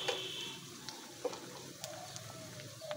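Spice paste of ginger, garlic and onion hits a hot pan and sizzles softly and close by, with a few sharp ticks and clinks of stirring scattered through it.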